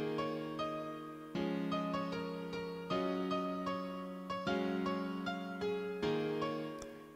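Piano melody programmed in FL Studio, doubled an octave higher, plays as a bright stepwise line over sustained lower notes, with clear repeated note attacks and a steady rhythm across the phrase.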